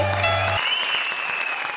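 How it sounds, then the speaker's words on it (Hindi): A studio audience at a Hindi comedy show breaks into continuous applause, dense and steady throughout, with a tonal musical sting at the start and a rising tone sweeping over the clapping. "जोरदार तालियां"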